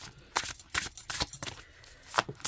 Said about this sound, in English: let me shuffle these cards and I can give you my first impressions